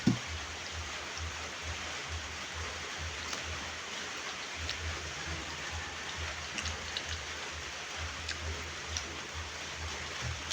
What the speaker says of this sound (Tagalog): Maghapon din ganyan ang ulan.